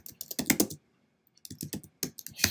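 Quick bursts of typing on a computer keyboard, close and crisp, a flurry of key clicks, a pause of about half a second, then two more rapid runs of keystrokes.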